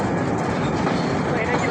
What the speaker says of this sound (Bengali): হচ্ছে সব থেকে বড় ট্রেন, হচ্ছে মালবাহী ট্রেন, মনে হয় পাথর টানে।